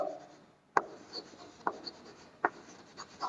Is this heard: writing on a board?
yes